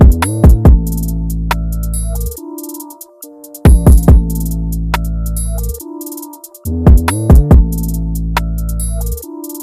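A UK drill drum pattern programmed in Reason 11 at 140 BPM, with heavy sliding 808 bass notes, sharp snares and bouncing hi-hat rolls, looping loud and upfront with no voices.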